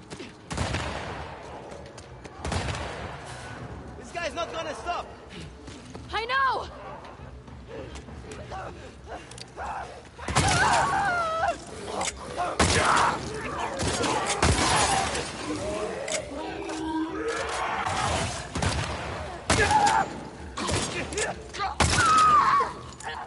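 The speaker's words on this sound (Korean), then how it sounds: "저기서 쏘고 있어 누가" Gunfire and crashing impacts in The Last of Us Part II, scattered loud bursts and breaking-glass-like hits spread through a tense stretch, some near and heavy, with other game noises between them.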